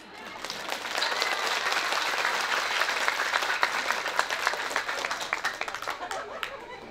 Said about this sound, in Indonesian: Aman, tepuk tangan.